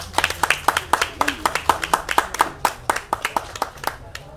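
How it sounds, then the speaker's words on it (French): A small audience claps in a brief, uneven burst after a haiku is read in Marquesan at a haiku contest awards announcement, with distinct individual hand claps close by and quick, irregular rhythm. "On peut l'applaudir."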